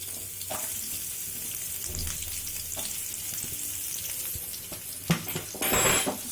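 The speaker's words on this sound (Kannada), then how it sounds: "ಚೆನ್ನಾಗಿ ಫ್ರೈ ಮಾಡ್ಕೊಬೇಕು." Onions sizzle in hot oil in a pan while being stirred, a steady fry with a few scraping clinks and a louder burst of sizzling near the end.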